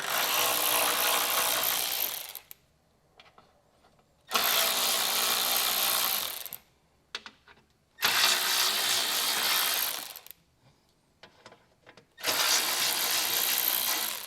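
Power driver removing T25 screws from the plastic lower bumper fascia of a 2023 Audi, four loud ratcheting bursts of about two seconds each with quiet gaps between, alone without talk.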